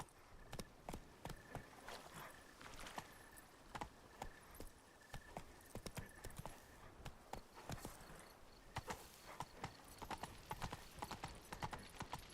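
Horse hooves clip-clop at an even walking pace in The Witcher video game, faint and steady throughout, with light jingling tack over a quiet background.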